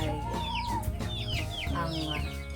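Backyard chickens in a farm coop cluck and squawk in a busy chorus, several birds close by with rising calls layered over a low steady background hum, no voices present.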